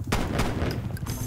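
Shotgun fire in the shooter game Black Ops Cold War, a few loud, close booming blasts in quick succession over dense background battle noise, with no talking.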